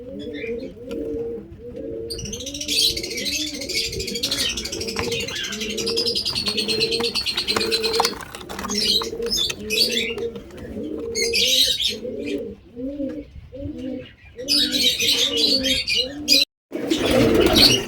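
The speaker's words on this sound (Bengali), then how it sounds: "লাল ছাপকা মুখো চোখের পায়রা আছে, বেশ ভালোই, একদম ব্রিডিং পেয়ার আছে এটা।" Pigeons, including a red-marked breeding pair, coo in steady repeated rounds at close range during morning feeding, with sharper chirps over the top and a brief flutter of wings near the end.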